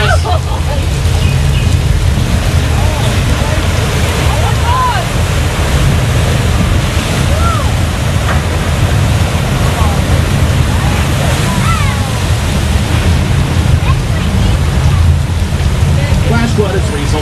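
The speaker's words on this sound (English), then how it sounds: "Flood is the result of several thousand gallons of recycled water being released from large tanks that are located at the top of the hill." Several thousand gallons of recycled water released from hilltop tanks rush down a studio backlot street as a staged flash flood, a loud continuous roaring wash of water with wind noise and faint voices mixed in.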